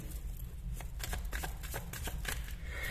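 Tarot cards handled and shuffled, a run of quick soft slaps and riffles at close range over a steady low hum, with no talking.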